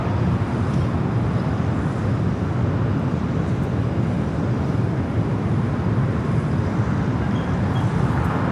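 A British Airways airliner taxis along a taxiway at LAX toward the gates, a broad, steady roar of jet engines and rumble that holds unchanged for several seconds, fairly close, with no voices.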